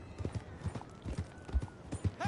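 Horse hooves clip-clop at an irregular trotting rhythm in a video game, moderately close and fairly quiet, with a short whinny-like tone near the end.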